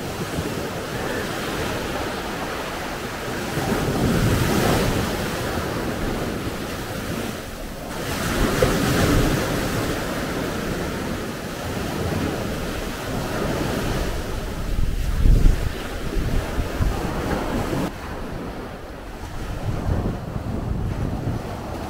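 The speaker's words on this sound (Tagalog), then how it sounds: "At Malakas ang alon." Strong sea waves roll and crash onto the shore at a beach resort in rainy Guimaras, a loud continuous surf roar with heavy wind buffeting the microphone throughout.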